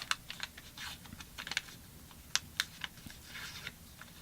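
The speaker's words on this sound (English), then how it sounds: "fold the entire thing in half" A sheet of patterned origami paper folded in half for a paper lantern, giving scattered crisp rustles and sharp creasing clicks close by, irregular and fairly quiet with no talking.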